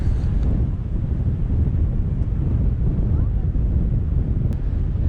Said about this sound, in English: The wind is absolutely howling. It's going to give my wind killer a run for its money.